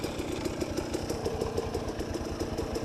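KTM 250 SX two-stroke dirt bike engine held near top speed in fifth gear, a loud, steady buzzing drone with rapid pulsing that runs without a break and has no talk over it.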